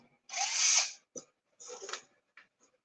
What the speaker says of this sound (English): So now I'm just going to drill the holes that I made.